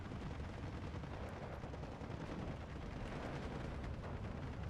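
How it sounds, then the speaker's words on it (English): Dense gunfire from a firefight in the Steel Division 2 video game forms a continuous loud rattling crackle of shots and bursts, with no pauses. "It's a decent firefight going here."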